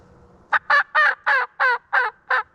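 Wild turkey gobblers on public land in Mississippi, sounding a run of about seven loud, rattling gobbles in quick rhythmic succession, close and clear over a quiet outdoor background.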